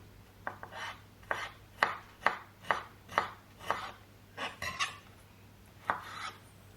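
A knife chops ginger and garlic into small cubes on a cutting board, about a dozen crisp, evenly spaced strikes with a few quick double taps, close and clear in a quiet kitchen.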